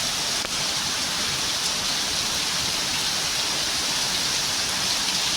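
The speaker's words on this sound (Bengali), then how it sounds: "এখন ঝুম বৃষ্টি" Heavy rain pours steadily, a dense, constant wash of hiss with no breaks and no voices.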